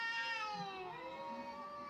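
In the video game A Space for the Unbound, a cat lets out a long, drawn-out meow that glides downward in pitch. It sounds fairly close but quiet, with no talking.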